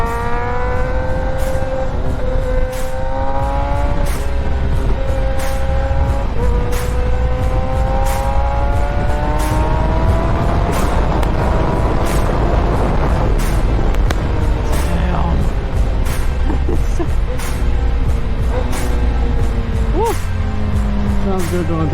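A Kawasaki ZX10R motorcycle with a freshly flashed Moore Mafia ECU revs hard while ridden, rising and falling through the gears in loud, continuous sweeps, with wind rush throughout.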